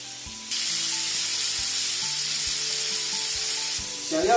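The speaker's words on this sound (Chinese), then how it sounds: "烧热后把鸡翅放进去， 给它两面煎香。" Chicken wings drop onto a hot oiled baking pan and burst into a loud, steady sizzling hiss that lasts several seconds, with faint background music tones underneath.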